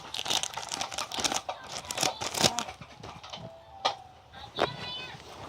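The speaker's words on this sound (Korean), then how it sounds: "다음 팩 개봉" A Rising Fist trading card booster pack wrapper is torn open. Close, busy crinkling and crackling of foil plastic runs throughout, with sharp tearing bursts in between.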